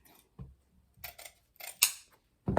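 Scissors cutting ribbon for a fall wreath, several crisp close snips in an uneven rhythm with quiet gaps between them.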